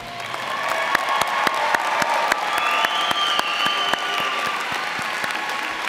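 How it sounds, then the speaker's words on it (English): A big audience applauds at a spring college commencement, a thick, continuous wash of hand clapping at steady volume with occasional louder claps near the microphone and a hint of cheering behind. "Let's give them another round of applause."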